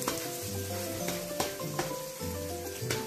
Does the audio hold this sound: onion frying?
yes